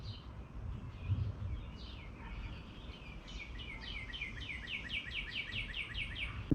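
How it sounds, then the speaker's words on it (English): Birds sing outdoors on a bright, fine day: rapid repeated chirping phrases and tweets at moderate distance over a steady background hum, growing busier toward the end. "The birds are enjoying this beautiful day as well."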